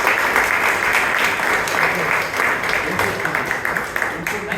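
An audience at a Toastmasters club meeting applauds the Toastmaster, a dense, lively burst of many hands clapping in a room, sustained and fairly close, with some voices mixed in.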